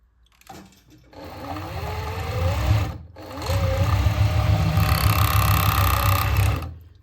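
A sewing machine trims and joins the fabric edges of panties in two loud, fast runs with a short pause between them, the motor whirring under rapid stitching.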